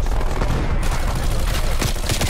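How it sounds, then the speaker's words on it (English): Incoming artillery fire in a video game: loud, dense booms and rapid gunfire-like blasts rolling continuously, with game audio dominating the whole stretch. "Artillery targeting detected. Cool. Incoming artillery."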